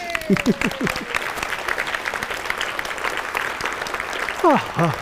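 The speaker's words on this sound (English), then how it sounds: "Give her a clap." Steady audience applause at a transformation seminar, a dense wash of clapping with brief voices rising over it at the start and again near the end.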